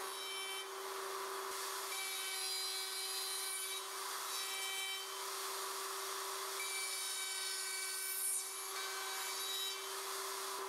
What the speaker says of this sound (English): route in every template opening, ensuring that the guide bushing comes in contact with both sides of the openings.